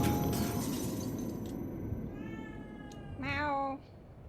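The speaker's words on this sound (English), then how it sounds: "Meow. Meow." A cat meows in The Evil Within 2 video game, first a soft call and then a louder, drawn-out meow near the end, heard over a steady ambient hum.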